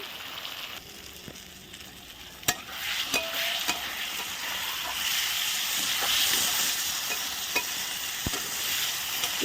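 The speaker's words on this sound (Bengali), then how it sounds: "দেখো মশলাটা অনেকটাই কষানো হয়ে গেছে" Spice paste for rohu fish curry sizzles and frying in oil in a pan over a wood-fired clay stove, a steady hiss with occasional sharp clinks of stirring, no talk.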